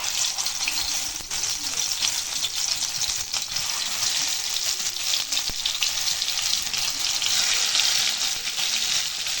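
Batter-coated pointed gourd frying in hot oil in a kadai gives a continuous bright, hissing sizzle, fairly close and even in level throughout, with no talk over it.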